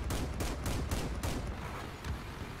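Machine guns in the vehicle combat game Crossout fire in rapid bursts, with five or six sharp volleys close together at a moderate distance and no talking.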